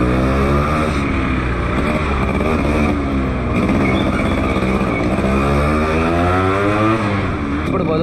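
A Yamaha RX100 motorcycle engine revs hard nearby, a loud, continuous buzzing drone whose pitch sweeps up and down with each throttle blip.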